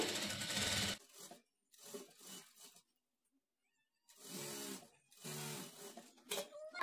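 A sewing machine stitching a work blouse runs in several bursts: one long steady whir, a few short stuttering runs, a pause of near silence, then two more sustained runs, all close up without speech.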